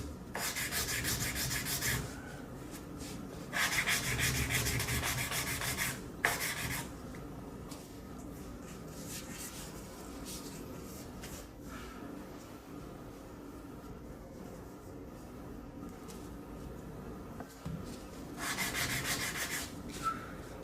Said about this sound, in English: Since I've sanded the upper part, now I'll also work on the bottom edges.